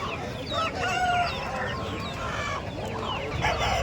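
Desi country chickens cluck and a rooster crows amid the busy bustle of a festival market, with overlapping calls from several birds close by.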